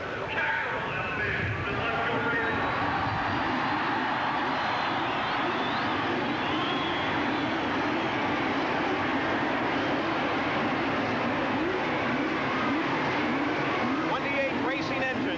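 CART open-wheel race cars fire their engines on Shoreline Drive at the 1985 Long Beach street race, a dense, loud wall of engine roar that holds steady throughout, with a commentator talking over it.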